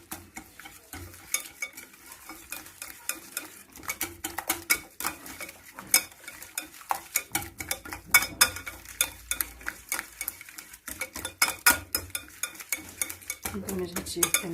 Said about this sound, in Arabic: ونخلط هادشي مزيان